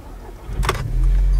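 A car engine cranks and catches, settling into a steady low idle after a brief rustle and starter burst, heard close from inside the vehicle.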